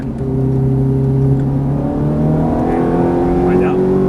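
A Ferrari F430 screams around a track, its engine note climbing steadily as the throttle opens, loud and close from inside the car, with a driving coach's voice over it.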